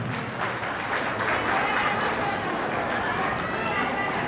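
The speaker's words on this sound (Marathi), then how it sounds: "आज आपण सर्वांनी टाळ्यांच्या गडगडाट श्रीमान विलास शेठ यांच्याकडे टाळ्या वाजवल्या" An audience applauds at a golden jubilee ceremony, sustained dense clapping from a large crowd at steady volume throughout, with voices mixed in underneath.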